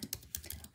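Quiet typing on a computer keyboard, a quick run of light clicking keystrokes with no voices.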